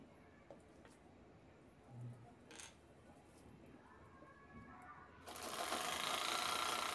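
A sewing machine stitches lined fabric with foam for a baby girl's bucket hat. Quiet handling noises come first, then the machine starts up loud and close with a continuous whirring run through the final seconds.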